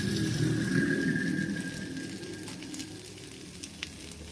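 An oil-free kulcha sizzles on a hot tawa griddle, a steady close hiss that gradually fades, with a few light taps and clicks later on.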